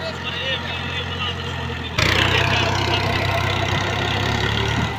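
A tractor engine rumbles steadily as it drives through waterlogged wheat fields and irrigation channels, growing suddenly louder and closer partway through and then holding a heavy, constant drone.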